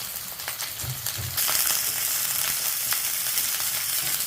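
Onions and green chilies dropped into hot oil with kalpasi, a sharp close sizzle that jumps louder partway through and stays intense, with a few crackles and no talking.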